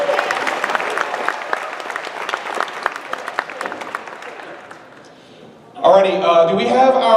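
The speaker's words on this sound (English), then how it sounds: "let's give a nice round of applause for these lovely individuals from Battlestar Galactica" A convention audience claps for Battlestar Galactica cast members and an astronaut at a Los Angeles panel, steady dense applause that fades out, followed by a loud announcer's voice over a speaker.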